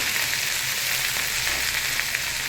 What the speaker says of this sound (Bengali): এটাকে এখন নেড়ে চেড়ে মিশিয়ে নেবো